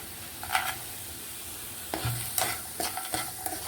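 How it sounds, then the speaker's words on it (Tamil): Roasted cashews and raisins are stirred into a pan of watermelon rind halwa, giving a soft sizzle under repeated spoon scrapes and stirring knocks near the end. "அடுத்து நம்ம வறுத்து வச்ச முந்திரி திராட்சையை போட்டுக்கலாம்"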